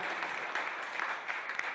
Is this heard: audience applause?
yes